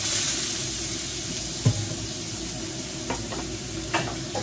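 Soaked dried fish dry-fries in a pan with a steady, close sizzle and hiss, broken by a few brief stirring clatters and pops.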